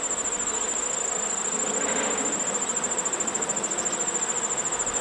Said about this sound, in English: I do see eggs in here, so I can see that that queen that I added here is laying.